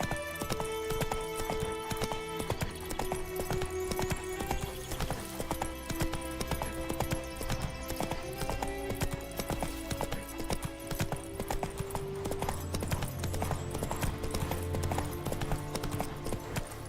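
Roach the horse gallops in a video game, with a steady, unbroken clip-clop of hooves carried over sustained music tones for the whole stretch.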